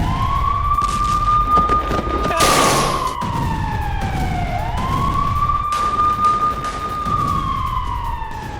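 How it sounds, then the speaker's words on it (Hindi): A loud air raid siren in northern Israel wails, rising and falling in long sweeping cycles, close and continuous, with a second tone layered over it. "उत्तरी इजराइल में बज रहे हैं सायरन"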